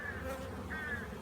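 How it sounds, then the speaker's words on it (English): Honey bees hum in a dense, steady buzz over a brood frame in an open hive, close and continuous, with individual bees droning past now and then. "Lots of bees over it taking care of their little sisters."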